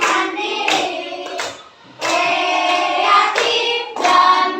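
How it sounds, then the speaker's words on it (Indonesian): A classroom of children claps together in a loud burst of applause, a brief dip partway through before the clapping swells again and carries on. "Oke, tepuk tangan buat kita semua."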